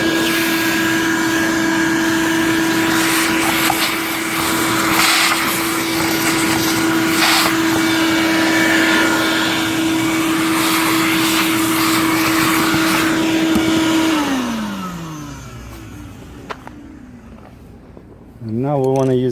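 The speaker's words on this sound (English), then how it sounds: "so I wanna vacuum that." A vacuum sucks up drilling debris from screw holes in a concrete retaining wall. It gives a loud, steady whine for about fourteen seconds, then spins down into near quiet.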